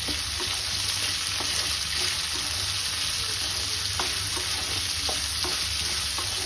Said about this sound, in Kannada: ಇದನ್ನು ಎಣ್ಣೆಲಿ ಹೀಗೆ ಫ್ರೈ ಮಾಡ್ಕೊಳ್ಳೋಣ